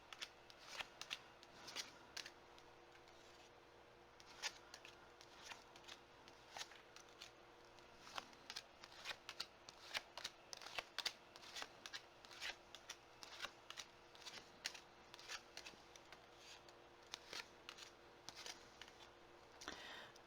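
Tarot cards shuffled and laid down one after another on a table, a long run of soft irregular flicks, snaps and slaps, close and fairly quiet, with no talking.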